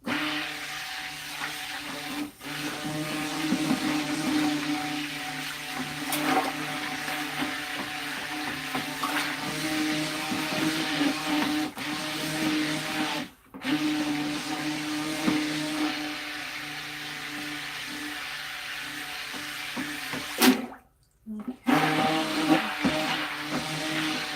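A blender runs steadily, mixing thick orange chilli pepper soap batter made with coconut milk, with a constant motor whine that drops out briefly twice.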